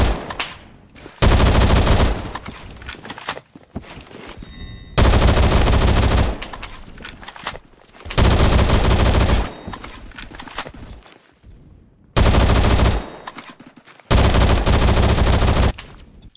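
Automatic SMG fire in the Phantom Forces shooter game, loud and close, arriving in several long sustained bursts separated by short quieter gaps with faint background game noise.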